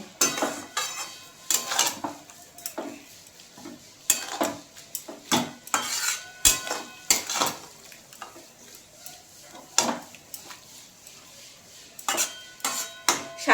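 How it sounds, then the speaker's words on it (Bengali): Spinach cooked with yogurt and pepper stirred in a pan, giving repeated clinking scrapes of a utensil against the pan in uneven bursts over a soft sizzle, close and fairly loud. "এবার আমি এটাকে ভালো করে নেড়ে নিচ্ছি"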